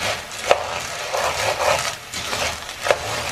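Piñon nuts roasting in a pan while being stirred continuously, giving woody rattling and scraping with a couple of sharper clicks, close and moderately loud with no voices.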